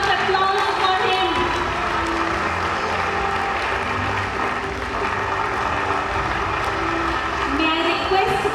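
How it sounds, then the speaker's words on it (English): An audience at a convocation ceremony applauds an awardee with steady, dense clapping that fills the hall for several seconds, fairly loud and continuous, while a voice is faintly audible underneath. "A huge round of applause for him."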